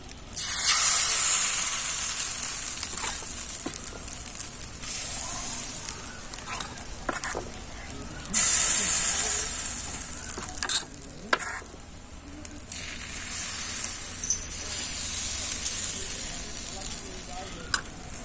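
Chitoi pitha batter poured into an oiled pan bursts into loud hissing sizzle, which fades and surges again as more portions go in, with occasional clinks of utensils and no speech.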